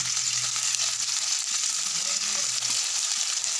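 Dried shidol shutki fish frying in oil over a village cookstove, giving a steady, dense sizzle that holds at an even level throughout, close up and with no talking.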